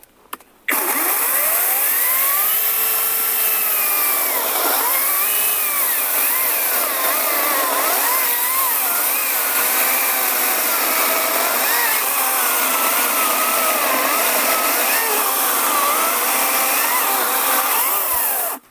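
Grosser GCS 160 cordless battery saw running steadily at its second speed setting, a loud continuous motor whine with shifting pitch as the blade works, alone and up close for most of the run.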